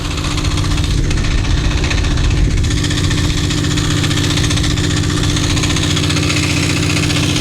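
A trawler boat's engine on the Meghna river runs loud and close, a steady, heavy thumping drone with a rattling, knocking vibration and no break from start to finish.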